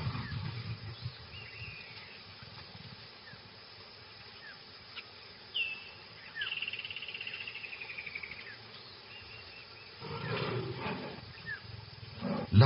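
Big cats in the Amazon rainforest during noisy mating, low rumbling growls and a louder roaring burst near the end over a constant drone of insects and crickets.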